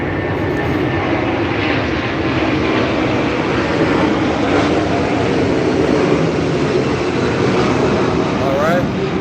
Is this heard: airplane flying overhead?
yes